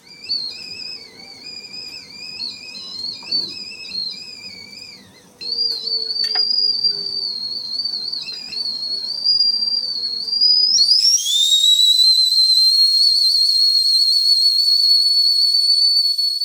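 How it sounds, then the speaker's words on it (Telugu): A milk pot heating on a high flame gives off a steady, high-pitched whistle that wavers at first among faint chirps, then jumps to a louder, purer tone that holds to the end. "చూడండి, పాలు హై ఫ్లేమ్లో పెట్టినా కూడా అస్సలు పొంగవు, విజిల్ సౌండ్ పెరుగుతుంది తప్ప పాలు పైకి రావు."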